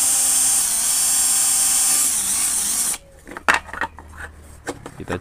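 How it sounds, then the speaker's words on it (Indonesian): A small drill with a 2–2.5 mm bit whines continuously for about three seconds while boring a hole in a plastic box, then stops, followed by scattered scrapes and clicks of handling. "Untuk lubang LED indikatornya menggunakan bor 2 mm,"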